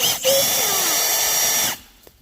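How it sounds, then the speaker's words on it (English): A handheld drill fitted with a paint stirrer attachment whirs steadily as it mixes, loud and close, for under two seconds before cutting off abruptly, leaving a faint tap in the quiet afterward. "Let's try the paint stirrer."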